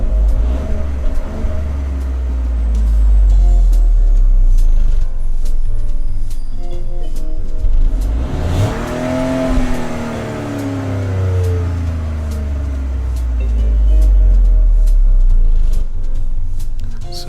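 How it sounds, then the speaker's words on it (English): Peugeot 2008 Allure engine in Gran Turismo 7, a chunky, low engine drone that climbs and falls through revs and gear changes, loud and continuous with no talking. "That chunky noise was the Peugeot 2008 Allure."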